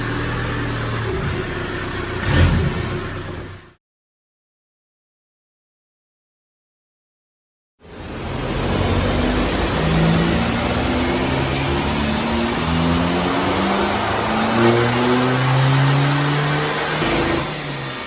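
A Skoda Fabia VRS diesel car accelerates hard, its engine note rising through repeated climbing sweeps as it pulls, loud and close, broken by a few seconds of dead silence partway through.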